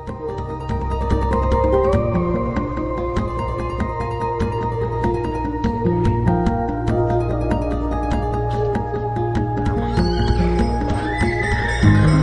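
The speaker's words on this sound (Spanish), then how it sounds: "los caballos cartujanos de largas crines que nunca pierden el compás" Cartujano horses in Jerez neigh and whinny while their hooves clip-clop, heard close and fairly loud over steady melodic music that continues throughout.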